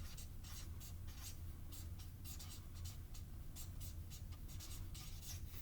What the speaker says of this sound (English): So let me write it real quick first.